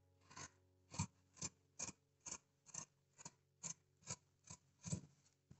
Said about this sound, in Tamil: பேக்கை நான் கட் பண்ணிடுறேன்.